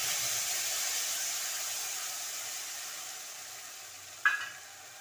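A ground sesame and poppy seed paste frying in a pan for a potato and pointed gourd curry, a steady soft sizzle and hiss throughout, with one brief sharp clink of a utensil near the end.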